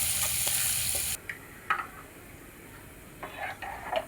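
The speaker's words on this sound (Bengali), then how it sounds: "কড়াইতে সাদা তেল দিয়েছি, এবার একটু রসুন দিয়ে ফোড়ন দিতে হবে খাটাটাকে" Garlic tempering hisses in white oil in a wok, a loud sizzle for about a second that cuts off abruptly, followed by faint scattered crackles and light stirring clinks.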